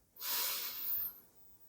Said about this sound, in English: So let's take a breath.